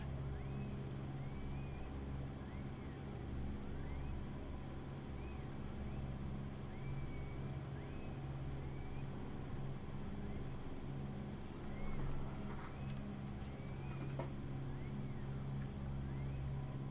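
Touring cars race around the Kyoto track in a video game, a steady layered engine drone with pitch sweeps as cars shift and pass, while a voice talks faintly underneath.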